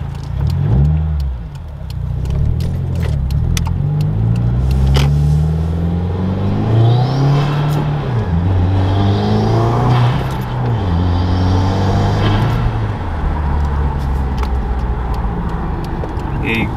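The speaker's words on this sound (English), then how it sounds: "The intake sounds amazing. Exhaust sounds great." Car fitted with an ETS axle-back exhaust and intake revs repeatedly, deep engine tones rising and falling through several throttle blips, loud and close, with wind buffeting and someone talking over parts of it.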